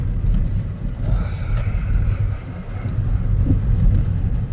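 A 2011 Suzuki Kizashi AWD sedan with about 73,000 miles drives along, its steady low road rumble and engine drone continuous and close from inside the cabin, with no talking.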